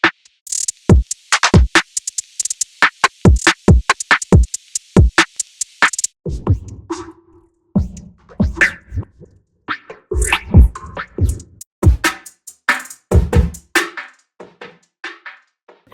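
A beat processed with the echo effect of Unison's Sound Doctor plugin, first as a run of sharp evenly spaced percussive hits and then as a denser, smeared stretch of repeating hits, loud and with no talk.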